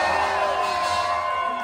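Concert crowd at a rock show in San Antonio cheering loudly and continuously, a dense wall of shouts and whoops filling the short stretch.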